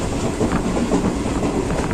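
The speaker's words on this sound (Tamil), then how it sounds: "முன்னாடி இருந்தவங்க இப்போ அப்படியே ட்ரெயின் லெஃப்ட்டில் திரும்பி போகுது." Okha Express passenger train, running on rails and turning left through a curve, gives a loud, steady rumble of wheels and carriages with continuous clatter, close and alone.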